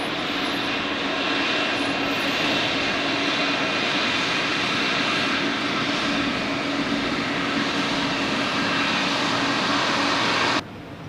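A jet airliner rolls slowly past at Zurich Airport and parks close by, giving a steady, loud engine whine and roar that cuts off abruptly near the end.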